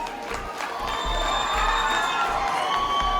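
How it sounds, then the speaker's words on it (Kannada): A crowd at a Kannada film first-look release event cheers and shouts loudly and steadily, with whoops rising over the roar of many voices. "ಜೋರದ ಚಪ್ಪಾಳೆ ಬರಲಿ ಅವರಿಗೆ"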